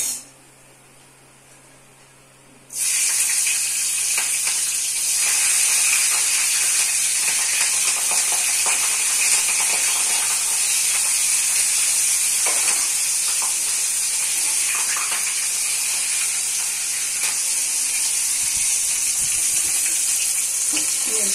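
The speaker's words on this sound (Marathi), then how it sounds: "आता ही मिरची मी अशी तळून घेते." Green chili peppers frying in hot oil give a loud, steady sizzling hiss that starts abruptly after a short quiet moment and carries on without letting up, close by, with no talking.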